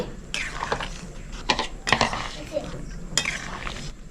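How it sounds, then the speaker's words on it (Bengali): A spoon clanks and scrapes inside a pot while moong dal is stirred together with bottle gourd, bitter gourd and drumstick pieces, giving a few sharp metallic knocks over a soft wet churning. "সবজিগুলো দিয়ে ডালটা আমি ভালো করে মিক্স করে নিচ্ছি।"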